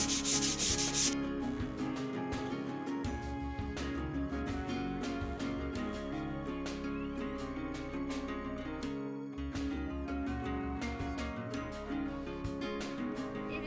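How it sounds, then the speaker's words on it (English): Folded 220 grit sandpaper rubs by hand across a wooden dinette piece in a steady back-and-forth scratch, faint and close. "I'm going to use 220 grit sandpaper"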